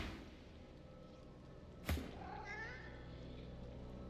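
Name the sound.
undead cat meowing, from the video game Divinity: Original Sin 2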